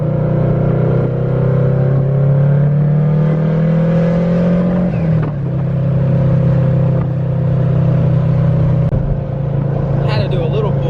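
A 2020 Honda Civic Type R on a flex-fuel setup pulls hard through the gears, a loud, close engine note rising steadily, dipping briefly at each shift and climbing again, with no talk over it.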